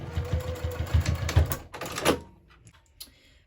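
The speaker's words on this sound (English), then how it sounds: "we're gonna go ahead and sew this, just baste this at 1/8 of an inch seam allowance" A sewing machine basting bag pieces together at a 1/8 inch seam: a rapid mechanical stitching whir for about two seconds, close and fairly loud, then stopping into near quiet with a faint click.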